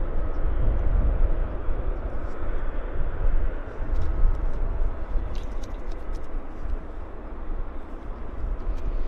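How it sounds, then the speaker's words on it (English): A United Airlines jet on approach to Vancouver Airport, a steady broad engine roar that holds loud throughout and swells slightly midway, heard alone without talk. "We do have an aircraft on approach too"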